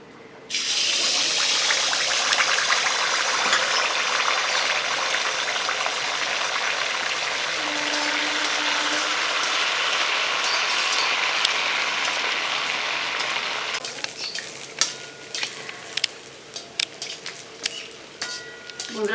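Malpua batter frying in hot oil makes a loud, continuous bubbling sizzle for most of the stretch, then thins into sparse crackling pops toward the end.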